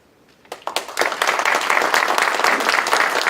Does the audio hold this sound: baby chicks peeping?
no